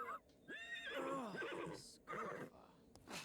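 A horse on a ranch neighs in loud, shaky whinnies, several bursts in quick succession, close by, with short pauses between calls.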